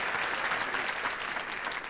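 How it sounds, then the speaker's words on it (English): Studio audience applause fills a television variety show stage, a dense, steady wash of many hands clapping at moderate loudness with no voices over it. "I don't know if you're applauding the fact I'm nutty or they're not gonna lock me up."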